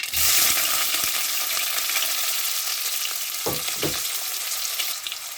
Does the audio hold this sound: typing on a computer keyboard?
no